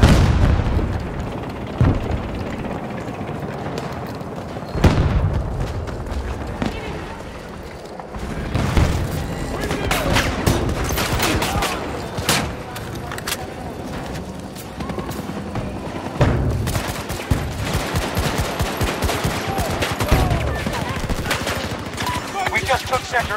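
Battlefield 2042 combat roars with continuous rapid gunfire, machine-gun bursts and heavy booming explosions, loud and dense throughout with occasional voice callouts mixed in.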